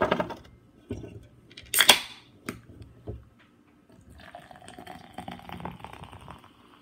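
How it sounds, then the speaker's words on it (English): Coke Zero pours into a glass in a short fizzing burst, followed by faint bubbling and clinks, with soft sizzling carbonation continuing afterward. "I'm gonna pour my Coke Zero in my glass and mix the vodka in it"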